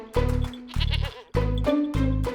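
A pet goat bleats four times in quick succession, loud and close, each call a strong wavering cry with a brief gap between them.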